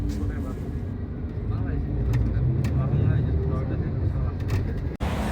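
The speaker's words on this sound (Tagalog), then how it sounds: "Medyo traffic nga lang." Steady city traffic in Prague heard from inside a moving vehicle: a continuous low engine and road rumble with faint voices in the background.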